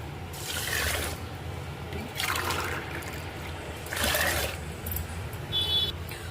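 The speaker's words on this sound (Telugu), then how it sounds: "8 గ్లాసులు నీళ్ళు పోసుకుంటున్నానండి." Water pours into a vessel of washed rice in three separate bursts, each a gushing splash lasting about a second, close by with short pauses between.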